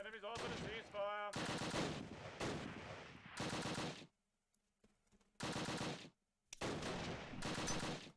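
Gunfire in the WWII tactics game Close Combat: Last Stand Arnhem, with loud, dense bursts of rifle and machine-gun fire coming in several long volleys separated by brief silences.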